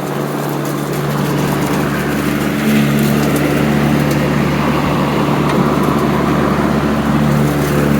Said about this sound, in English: There's some little twigs in here. May make some noises.